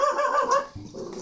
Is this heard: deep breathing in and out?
no